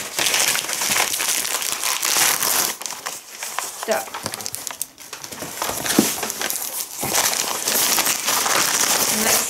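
A parcel being unpacked, its wrapping and tape crinkling and crumpling loudly and almost continuously close by, with brief tearing bursts and someone speaking a word.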